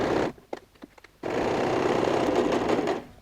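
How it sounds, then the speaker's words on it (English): A sewing machine runs an edge stitch along a quilted crossbody messenger bag. A few short stuttering bursts lead into a steady, close whir that lasts about two seconds before stopping. "So let me just go ahead and do an edge stitch."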